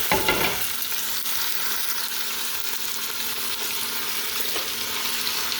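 Chicken frying with light-browned garlic in a pan, a continuous moderate sizzle with a sharp burst as it goes in at the start, then steady frying and faint stirring, no talking.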